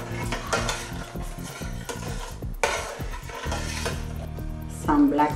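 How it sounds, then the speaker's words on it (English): A spoon scrapes and clanks against a pot as cauliflower soup, just dosed with lemon juice, is stirred on the heat, with a faint simmering sizzle underneath. "Stir."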